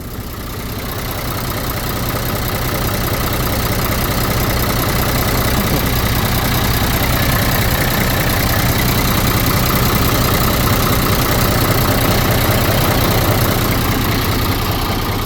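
A Ford 7810 tractor's diesel engine idles steadily and close by, a continuous low rumble with a faint knocking texture that holds even throughout.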